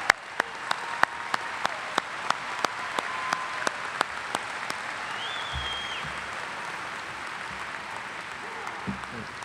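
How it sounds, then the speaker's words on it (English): Steady audience applause fills a university commencement ceremony, a broad continuous wash of many hands with a few sharp, close individual claps standing out near the start. "A round of applause for them"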